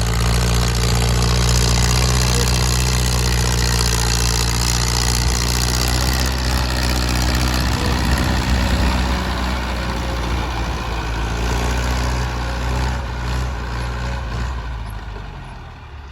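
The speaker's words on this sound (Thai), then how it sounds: "นี่ คือเสน่ห์ของรถไถฟอร์ดนะ ครับ" A heavy Ford 5000 tractor engine idles steadily and loudly close by, a deep continuous rumble with a faint rattle, easing slightly toward the end.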